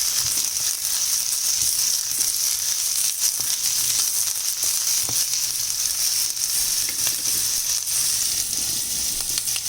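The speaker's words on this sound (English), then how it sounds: "add all the chopped vegetables to it. Then keep stirring them occasionally so that they doesn't get burned" Chopped vegetables frying in a hot pan, a loud steady sizzle throughout with occasional light clicks of stirring, close and continuous, with no voices.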